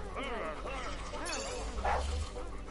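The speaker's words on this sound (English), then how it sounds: "That was a dog again." A dog in the video game Bee Simulator barks and yips several times at moderate volume over steady background game noise.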